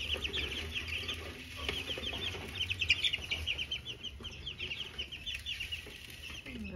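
Small chicks being fed on a farm peep in a busy, overlapping chorus of high chirps, near and fairly faint, with soft scratching and bird movement underneath.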